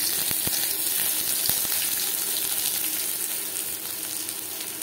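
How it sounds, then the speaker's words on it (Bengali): Onions fry in hot mustard oil with a loud, even sizzling hiss close by, a couple of sharp pops near the start and the sound easing slightly toward the end. "সবার প্রথমে আমি পেঁয়াজ ভেজে নেব।"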